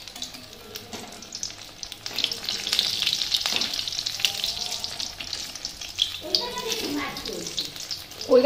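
Fritters frying in a pan of oil give a steady, fairly close hiss and crackle that swells in the middle, with a few scraping stirs; a person talks faintly near the end.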